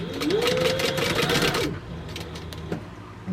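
Sewing machine running at a 3 stitch length along fabric for a pumpkin bucket bag, one steady whirring burst for about a second and a half, then quieter thumps and handling.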